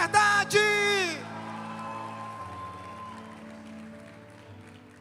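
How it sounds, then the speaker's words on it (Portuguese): An audience at a Portuguese-language church service breaks into brief applause and cheering with whoops, fading under a lingering sustained tone and quieter crowd noise. "Eu posso ouvir um aplauso àquele que reina e vive para sempre."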